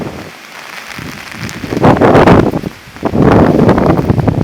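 Rain falls in the gardens of Blarney Castle in Ireland, a broad hissing wash that swells in two loud gusts of wind-blown noise.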